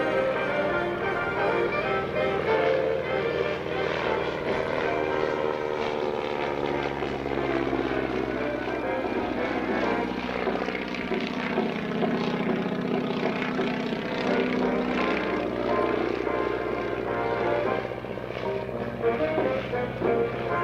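A Stearman propeller biplane, powered by a Continental, Lycoming or Jacobs radial engine, flies at the 2024 National Warplane Museum airshow, its steady droning engine loud and continuous throughout, swelling slightly as it passes.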